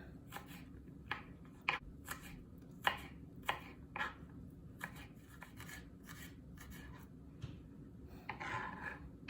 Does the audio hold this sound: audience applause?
no